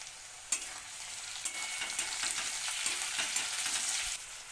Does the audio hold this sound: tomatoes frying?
yes